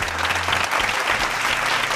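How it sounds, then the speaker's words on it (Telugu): An audience claps steadily and loudly at a college game show at Vivekananda Junior College, Chevella. The dense, continuous applause fills the whole two seconds without pause. "సో మరి ఒకసారి గట్టిగా క్లాప్స్ కొట్టండి."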